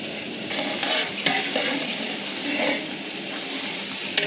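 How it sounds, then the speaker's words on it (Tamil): Fatty mutton pieces, five and a half kilos, stirred into hot oil with softened tomatoes for a large Pongal biryani, giving a steady loud sizzle and frying hiss with scraping stir strokes throughout, no talk. "கறியை வந்து அந்த எண்ணெயோடு அப்படியே மிக்ஸ் பண்ணிடலாம்"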